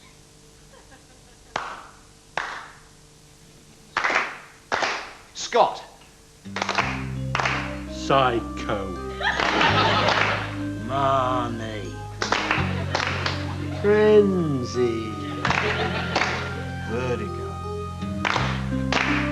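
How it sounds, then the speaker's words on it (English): Sharp hand claps in short rhythmic groups, two claps then a pause, ringing out alone at first before a voice takes over and continues over further percussive hits. "I'll start clapping. 2 claps and a pause."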